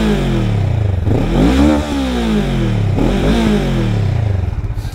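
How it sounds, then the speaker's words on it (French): A 2023 Honda CMX 500 Rebel S exhaust revs repeatedly at close range, two loud rising-and-falling throttle blips over a steady idle, with the engine burbling between them and no talking. "je vous fais écouter la sonorité de la ligne d'échappement"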